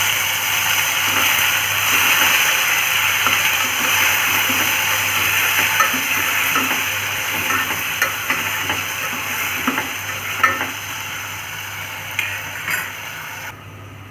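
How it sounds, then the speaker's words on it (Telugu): Chopped tomatoes softening in a hot pan for pepper rasam, a steady close sizzle and hiss that runs throughout, with faint occasional stirring taps, fading slightly near the end. "ఒక 2 మినిట్స్ టమోటాలని బాగా మగ్గిద్దాం"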